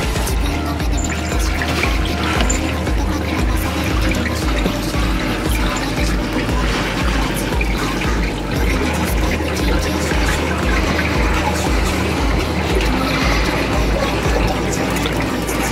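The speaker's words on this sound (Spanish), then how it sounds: "El agua sale por su peso, no tiene ningún tipo de bombita de vaciado ni nada." Water drains by gravity from an Adler AD8055 portable mini washing machine aboard a boat, a constant rushing pour with a faint low pulsing underneath, no voices.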